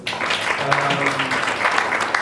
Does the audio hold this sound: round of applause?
yes